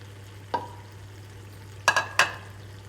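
Eggplant added to a pan and fried Afghan style: a few separate sharp clacks and scrapes of a utensil against the pan over a faint, steady background, with no talking.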